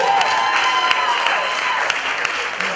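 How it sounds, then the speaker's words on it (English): Applause from a live cabaret audience at Joe's Pub fills the room steadily with sharp individual claps standing out, while a voice speaks over it. "Give him a round of applause."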